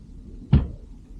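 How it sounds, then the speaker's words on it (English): A single drawer in a cruise ship cabin bumps shut with one short, close, dull knock against quiet room tone. "As you can see over here, these are drawers."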